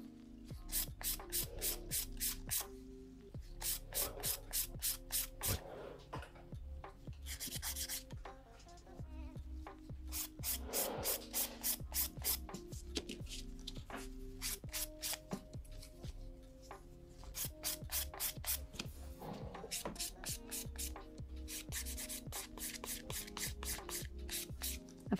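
A file sands an acrylic gel nail in short rhythmic bursts of close, scratchy strokes separated by brief pauses, repeating throughout with no voices.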